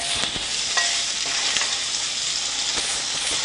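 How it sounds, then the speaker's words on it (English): Okra being mixed into a hot frying pan makes a constant bright sizzle, broken by a few soft scrapes and taps of a spoon, close and fairly loud with no voices. "and add the okra. Mix it well"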